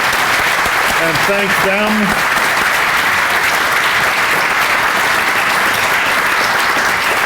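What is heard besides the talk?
audience applause for student speakers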